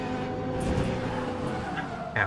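Race car in the Le Mans Ultimate sim racing game sliding with tire squeal over a continuous engine drone, a brief sharper screech at the end.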